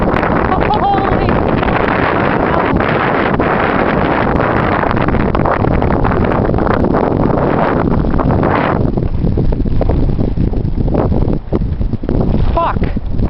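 Blizzard winds batter the microphone outdoors in a continuous, loud roaring buffet that barely lets up, with a voice speaking under the gusts.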